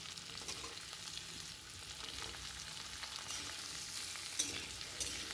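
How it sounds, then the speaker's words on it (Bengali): Vegetables stirred and fried in a pan for a milky Bengali shukto: a steady, quiet sizzle with soft scraping stirs and a few clinks near the end, no talking. "তারপর এটা একটু হালকা নেড়ে চেড়ে নিয়ে আমি এরপরে একে একে সমস্ত সবজিগুলো এর মধ্যে দিয়ে ভালোভাবে নেড়ে চেড়ে নেব।"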